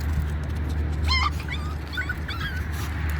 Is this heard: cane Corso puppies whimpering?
yes